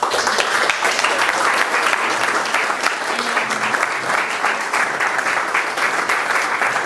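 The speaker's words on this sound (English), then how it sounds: "maybe this is time for another applause" A crowd applauds at a solo photography exhibition opening in a Berlin gallery, producing a loud, continuous wash of clapping that holds steady throughout, with faint voices mixed underneath.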